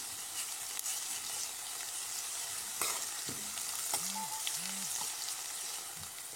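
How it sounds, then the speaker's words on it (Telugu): Ginger garlic paste sizzles with onions and chillies in a pan, a soft, steady frying hiss with occasional light clinks and stirring, fairly quiet and without speech. "ఇప్పుడు ఇందులో కొంచెం అల్లం వెల్లుల్లి పేస్ట్ వేస్తున్నాను."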